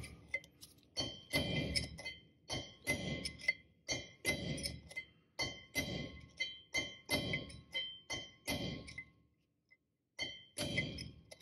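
A punch being struck with a hammer to drive a wheel bearing race out of a 2000 Ford F-150 hub, a close, steady series of sharp metallic blows with a short pause near the end.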